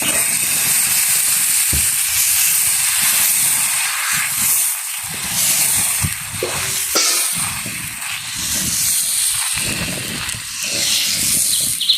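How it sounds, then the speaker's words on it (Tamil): Rava dosa batter hits a hot griddle slicked with coconut oil, giving a steady, loud, continuous hiss and sizzle that persists throughout with occasional crackles. "தோசைக்கல் நல்லா சூடாயிட்டு கொஞ்சம் தேங்காய் எண்ணெயை விட்டுட்டு நாங்கள் தோசை எங்களோட ரவை தோசைமா விடுவோம்."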